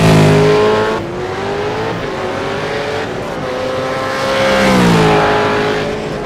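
A V8 Supercar race car at Winton circuit roars past while heading toward pit entry, a loud, rasping V8 note rising and falling as it brakes and accelerates, with a second swell of engine noise near the end.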